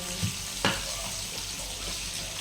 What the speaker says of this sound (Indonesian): Ikannya setelah digoreng jangan langsung diangkat, agak sedikit minyaknya